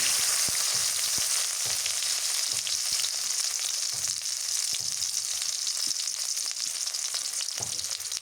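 Chopped onion fries in oil in a pan for a sweet pumpkin curry, a steady bright sizzle with occasional soft clinks and stirring knocks, close up and uninterrupted by talk.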